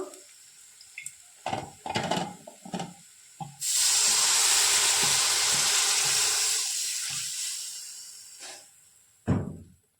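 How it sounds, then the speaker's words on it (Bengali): Water is poured into a pan of chickpea chicken curry, starting with a few clinks and stirring knocks, then a sudden loud sizzling hiss that slowly fades, with a final sharp knock near the end. "মধ্যে একটু জল দিয়ে দেব"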